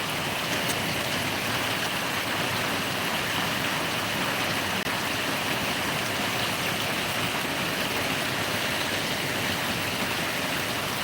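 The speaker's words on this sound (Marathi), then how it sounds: "पाऊस चालू झालेला आहे आणि पूर्ण वाळ वाळ वळीव टाईप पडत आहे" Heavy monsoon rain pours down on a farm in a dense, unbroken roar, loud and steady from start to finish with no voices.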